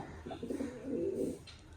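A pigeon coos nearby, a soft low throaty warble rising and falling in two drawn-out phrases, with no one speaking.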